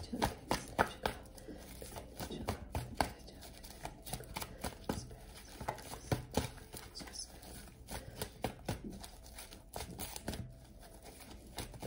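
Angel oracle cards being shuffled by hand close up, quiet repeated riffling and sliding bursts in an uneven rhythm, with a soft voice talking now and then.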